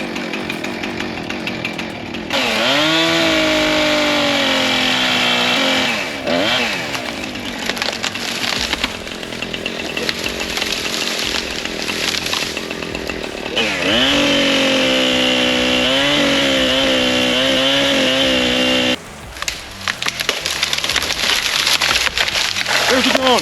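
A chainsaw roars loud and close as it cuts into a tree on a Wyoming elk hunting trip, the engine pitch bending and dipping under load with brief idle gaps between cuts; people talk over it.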